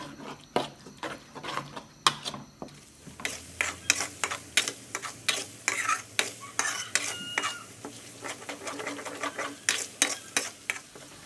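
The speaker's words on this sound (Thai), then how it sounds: "ผัดจนกว่ากระเทียมจะสุกเหลืองหอมนะคะ" Garlic stir-fried in oil in a pan over low gas, a spatula scraping and tapping in a brisk, rhythmic run beneath a soft constant sizzle, close and unaccompanied by talk.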